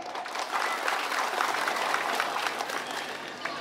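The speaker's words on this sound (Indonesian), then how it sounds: "Tepuk tangan" Audience at a thanksgiving ceremony for the regent and vice regent of Nunukan claps steadily, a fairly faint, sustained crowd applause with individual claps audible throughout.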